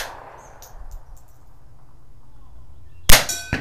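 A Winchester model 1890 rifle fires .22 short rounds at targets: a single sharp crack near the end, preceded by a few light clinks and quiet outdoor ambience.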